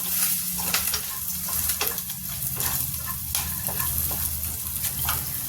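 Garlic and green chili fry in hot oil for an aloo gobhi dish, a continuous close crackling sizzle punctuated by repeated scraping strokes of a spoon against the pan.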